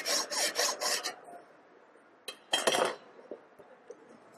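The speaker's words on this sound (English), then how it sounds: "Now cut and remove this slug material." Hand sawing through slug material on a clamped metal workpiece during fitting practice, with quick rhythmic rasping strokes up close, then a pause and another short burst of strokes.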